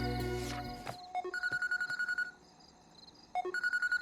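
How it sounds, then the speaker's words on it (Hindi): A telephone rings with an incoming call: clipped electronic tone pulses come in two rapid bursts, separated by a short pause, after a louder rumbling sound at the start. "ये तो दोबारा फोन कर रहा है।"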